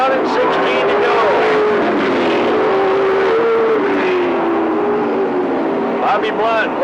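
Stock cars race around an oval track late in a long race, with engines droning and shifting pitch as they pass close and loud throughout, while a commentator talks over the noise.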